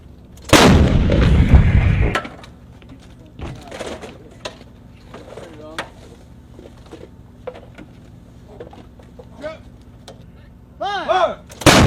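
An M777 light towed 155mm howitzer fires one heavy, booming blast that rumbles for over a second and fades into a quiet outdoor scene with scattered knocks, and shouted voices rise near the end.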